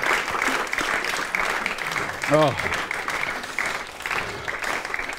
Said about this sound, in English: Annoyingly, you applauded over at the final line,